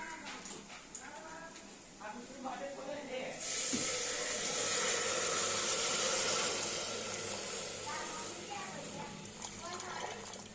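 Milk poured into carrots fried in ghee for carrot halwa gives a sudden loud sizzling hiss that holds steady, with a voice talking over it.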